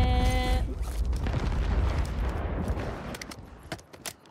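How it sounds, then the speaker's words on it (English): Bombs exploding in Call of Duty Warzone, a loud booming blast that rumbles and decays over several seconds, followed by scattered sharp pops and crackles. "So many bombs"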